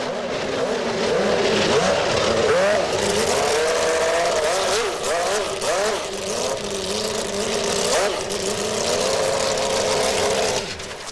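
Williams Renault FW15c Formula One race cars running on a test day, engines droning loudly and continuously with shifting revs throughout, with no talk.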